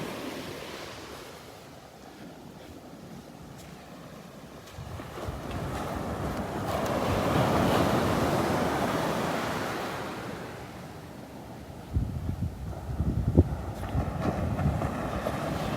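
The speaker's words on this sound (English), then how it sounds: "those waves." Ocean waves break on Barefoot Beach, with a steady surf wash swelling into a fuller roar midway and fresh breakers crashing near the end, all mixed with gusty wind buffeting the microphone.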